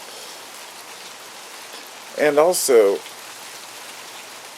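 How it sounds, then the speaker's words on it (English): Steady rain falls throughout as a soft, even patter on surfaces, with a short burst of speech briefly rising over it partway through. "ooh, it's raining."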